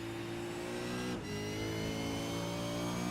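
V8 Supercar racing around Laguna Seca in iRacing, a loud, smooth, sustained engine howl with a quick dip around a gearshift before it resumes at a steady high pitch.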